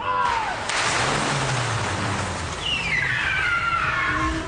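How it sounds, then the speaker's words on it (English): A stunt car races in fast across a film set for a Fast and Furious scene, its engine roaring and revving loudly and steadily throughout, with a rising whine as it nears. "the car's coming in really fast"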